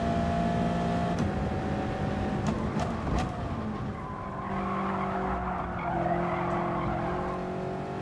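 Tyres squeal and skid as a Gr.4 race car loses grip at Sainte-Croix in Gran Turismo Sport, sustained whining screech over a droning engine, with sliding tones shifting throughout.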